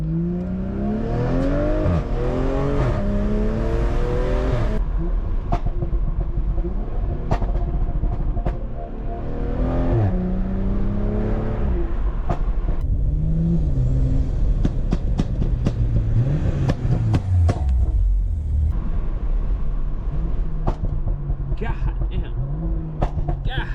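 A stage 2 tuned BMW M340 of about 500 hp, engine revving and pulling hard through gears from inside the car, loud rising and falling tones under steady road noise, with speech at times.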